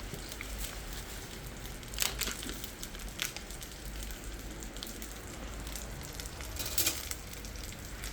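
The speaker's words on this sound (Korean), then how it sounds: "이렇게 얹어주고 이제 버터 베이스팅을 해서 조금 고기를 익혀보도록 하겠습니다." Butter basting a striploin steak in a hot pan with plenty of hot oil gives a steady crackling sizzle, with a few louder spits and pops now and then.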